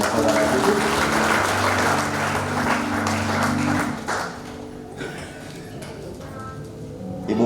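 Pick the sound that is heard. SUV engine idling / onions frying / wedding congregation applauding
wedding congregation applauding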